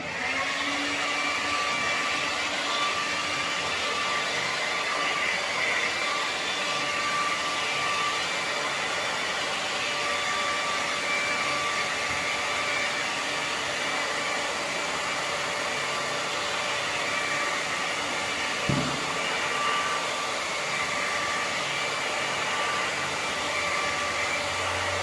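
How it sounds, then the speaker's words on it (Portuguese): Steady whooshing hair dryer blowing over a freshly painted art piece, running continuously at close range without pause. "agora eu vou colocar o secador."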